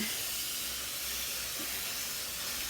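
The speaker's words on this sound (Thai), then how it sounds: "เปิดน้ำใส่ ให้ท่วมท่วม" Tap water pours steadily into a container of soaking bean sprouts, a continuous broadband hissing rush that stays even and close throughout, with no talk over it.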